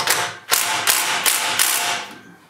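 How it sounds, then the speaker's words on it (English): A ratchet slowly loosens the bolts on a BMW exhaust camshaft during the teardown of a failed engine. Five loud, close ratcheting strokes follow one another evenly, then the sound trails off. "I'm just gonna slowly release the pressure on these bolts."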